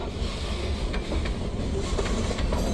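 A freight train rolls along the rails nearby, a dense, continuous low rumble with faint rhythmic clatter from the wheels, steady and loud throughout with no voices.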